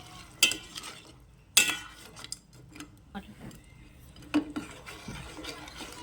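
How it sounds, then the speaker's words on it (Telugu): A spoon gently stirs crab curry in a pan, giving a few sharp clinks and scrapes against the metal over a soft simmer, fairly quiet and intermittent. "ఓకే, దాన్ని మెల్లగా కలుపుకుందాం."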